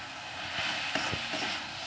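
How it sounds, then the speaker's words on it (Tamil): Mint leaves sautéing in a pan for a spicy Tamil chutney give a steady, soft sizzle with a few light stirring scrapes, fairly quiet and with no talking. "நல்லா இந்த மாதிரி வதக்கலாம்"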